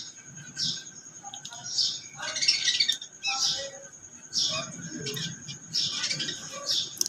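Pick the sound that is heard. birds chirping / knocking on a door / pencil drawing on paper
birds chirping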